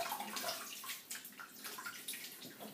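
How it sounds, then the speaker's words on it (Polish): Water splashing and dripping over a sink as a face is rinsed before shaving; close, irregular sloshes and trickles continuing throughout without speech. "Płuczę twarz i nakładamy mydło i zabieramy się do golenia."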